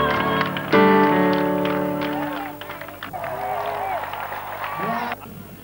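Stadium crowd applauding and cheering: a broad roar of clapping and acclaim that swells and fades, mixed with music tones and a voice speaking over it.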